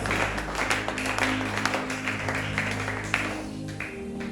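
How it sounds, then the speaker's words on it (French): A church congregation applauds and cheers for the Lord, a dense, steady wash of clapping and voices that continues unbroken throughout, with a sustained musical tone underneath. "si tu le crois, acclame très fort le Seigneur"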